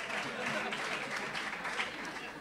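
Audience applause breaks out during a lecture on Saint Teresa of Jesus in a hall, a steady dense wash of many hands clapping at close range that holds evenly for a couple of seconds.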